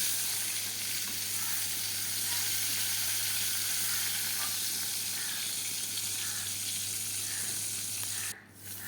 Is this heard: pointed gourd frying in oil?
yes